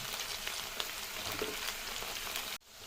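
Eggplant pieces frying with sliced onions in a pan for a simple vankaya curry, a steady, close hiss and crackle of sizzling oil that runs evenly, then cuts off abruptly near the end.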